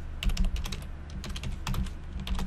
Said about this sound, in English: that should not show you what I type here